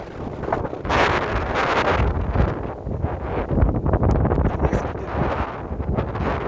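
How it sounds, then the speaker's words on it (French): Steady wind buffets the microphone with a continuous rough rumble and hiss, loud and unbroken throughout. "là vous sentez le vent autour de vous"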